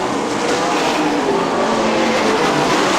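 A pack of IRA sprint cars roars around the dirt oval at Fremont Speedway, a dense, continuous loud engine drone with no voices over it.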